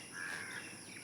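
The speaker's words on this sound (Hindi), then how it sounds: "इधर कौए की आवाज़ सुनाई दे रही" A crow caws in a village setting, a faint, steady call over a constant background hiss with no other voices.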